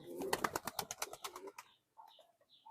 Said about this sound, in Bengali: আমার মানে খুবই পছন্দের একটা কবুতর